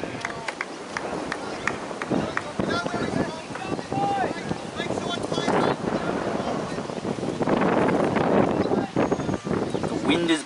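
Wind gusting across a cricket ground buffets the microphone in rough, rising and falling rushes that grow stronger toward the end, with a commentator talking over it.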